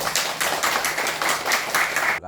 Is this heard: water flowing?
no